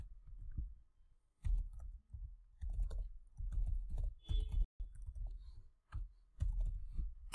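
Typing on a computer keyboard in bursts while an email address is entered, a muffled, low run of key presses broken by short pauses.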